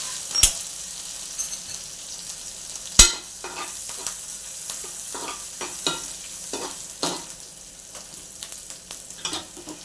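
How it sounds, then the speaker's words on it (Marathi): Cumin, mustard seeds, asafoetida and chili tempering in hot oil on a griddle pan for a spinach dish, giving a steady close sizzle with sharp crackles and pops and light scraping throughout, no talking. "जिरी, मोहरी, हिंग, मिरची याचा तडका देणार आपण."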